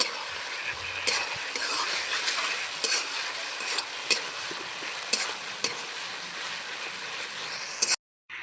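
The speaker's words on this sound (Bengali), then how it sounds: "রসুন বাটা, আদা বাটা আর লঙ্কা বাটা একসাথে ভালো করে মিশিয়ে কষিয়ে নেব।" Garlic, ginger and chili paste sizzles steadily in a pan for mutton curry, with sharp clacks from a spoon stirring it at intervals before a short silence near the end.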